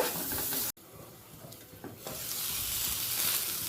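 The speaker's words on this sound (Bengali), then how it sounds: "একটা দিক ভাজা হয়ে গেছে এবার উল্টে পাল্টে চারদিকটাই সমানভাবে" Pointed gourd (potol) frying in oil in a pan, being turned for a Bengali paneer, potato and pointed gourd curry; a soft, steady sizzle with light stirring, briefly cut by a silent gap, then rising slightly.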